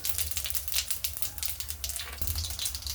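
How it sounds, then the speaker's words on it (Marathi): Cumin seeds crackle and sizzle in hot oil already holding popped mustard seeds, a soft steady frying hiss with dense small pops close by, no talking. "आता आपण याच्यामध्ये जिरे घालू"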